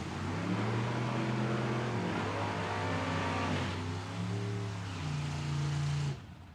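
Drag racing cars at Atco Dragway, including a 1940 Chevrolet and a Chevrolet Malibu, rev loudly before burnouts, engine tones climbing and falling in several surging pulls, close and alone, then cutting off abruptly.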